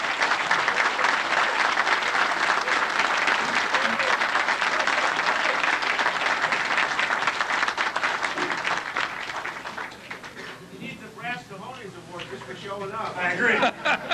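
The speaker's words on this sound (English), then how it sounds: "a warm welcome, please, for Police Chief Ron Deziel" Audience applause welcoming a police chief to the stage at a debate on concealed carry, loud sustained clapping that thins after about ten seconds as a voice begins speaking, then swells briefly again.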